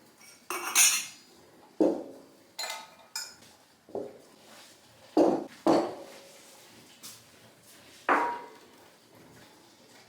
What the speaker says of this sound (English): Get the jars and fill the jars with this lovely apple pie